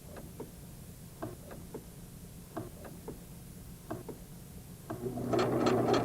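A Singer sewing machine stitching binding on a quilt, a quiet, irregular mechanical ticking at first, then the motor running into a steady, louder whirring stitch near the end.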